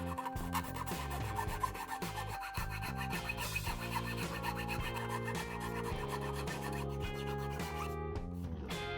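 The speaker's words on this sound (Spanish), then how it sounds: "Vamos cerrando con el lijado de toda la superficie" Steady rhythmic rasping of sandpaper rubbing over the thin wooden hull planking of an HMS Beagle model ship, close and continuous with repeated back-and-forth strokes.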